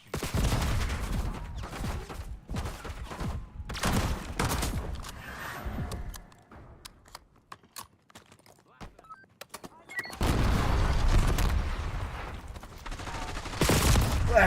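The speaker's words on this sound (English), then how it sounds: "Enemy shooting." Enemy gunfire in a video game comes as dense, loud bursts of rapid shots at the start and again near the end, with a sparser stretch of scattered clicks and pops between, and no voices.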